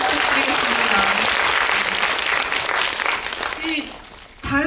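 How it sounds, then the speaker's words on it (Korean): An audience claps through most of the clip at a Korean film guest-visit event for The Moon, dense and sustained applause that fades toward the end, with a voice speaking briefly near the close. "박수 부탁드리겠습니다."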